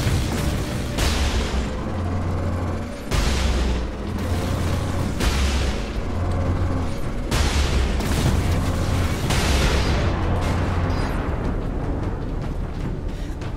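Repeated heavy explosions in the Warhammer 40,000 Space Marine video game, several loud booming blasts every couple of seconds with rumbling low-end tails and crackling debris between them.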